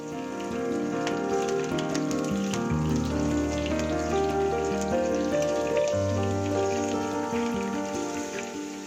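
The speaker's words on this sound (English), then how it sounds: "few curry leaves, 5 green chilies, and saute them." Curry leaves and green chilies, with cinnamon sticks, sauté in a pan, giving a dense, continuous crackling sizzle like rain on a surface, steady and close throughout with no talk.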